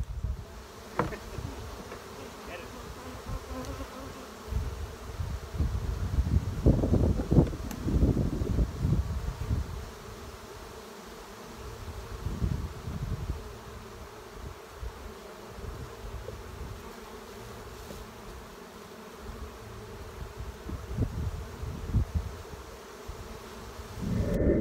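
Honey bees buzz steadily around hives in an apiary on a cold spring day, a dense, fluctuating drone close by with louder swells as individual bees pass near, no voices present.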